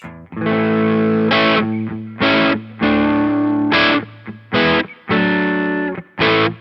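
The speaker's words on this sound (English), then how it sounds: "So it's pretty much mostly preamp distortion here." Heavily distorted electric guitar chords through an overdriven amp preamp ring out in bursts, each sustained and gritty, with short pauses between strummed hits.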